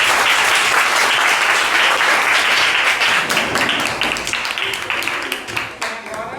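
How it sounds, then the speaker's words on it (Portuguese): Applause from a school audience for girls who just finished a monarchy-versus-republic debate presentation, dense steady clapping that thins out toward the end. "palmas para as meninas."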